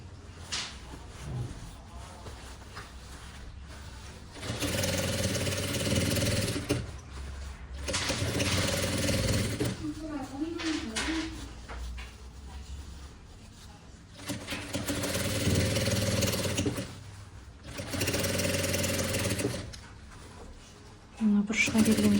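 A sewing machine stitches a vest seam in several separate bursts of steady whirring, each running a few seconds with pauses between, while someone talks in the gaps and over the machine.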